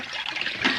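Water poured into a cooking pot, a short steady splash and trickle of liquid heard up close for under a second, with no talking.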